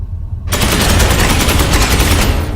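Bolter fire from Space Marines in Space Hulk Ascension: a sudden, loud, sustained burst of rapid automatic gunfire that starts abruptly and rattles on without pause.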